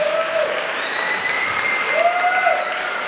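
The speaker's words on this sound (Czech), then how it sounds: "zatleskajte jim všem" Audience applause at a summer musical theatre school event in Holíč, a steady dense clatter of many clapping hands, with faint tonal music or voices running beneath it.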